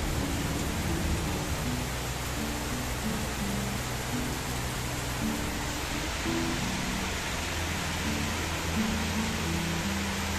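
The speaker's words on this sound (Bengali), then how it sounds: "প্রচুর বৃষ্টি হচ্ছে।" Heavy rain pours over a rooftop garden, heard from a balcony as a continuous, even hiss that stays dense and unbroken throughout.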